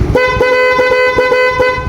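A loud, steady Yamaha Mio Sporty motorcycle horn blares continuously for about two seconds, a bright buzzing tone with slight pulsing, close to the microphone.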